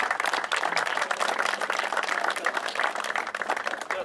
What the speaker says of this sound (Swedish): En applåd för här som har god smak här.